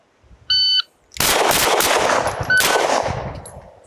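Pistol shots ring out at an FBI qualification range after a short electronic start beep, a sharp tonal blip followed by a burst of loud, overlapping reports and echoing range noise.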